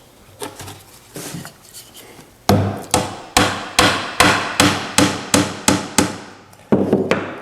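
Dowels being hammered into the treads of an oak step stool: a few light taps, then a steady series of about a dozen loud, evenly spaced hammer blows on wood, close up, with no talking.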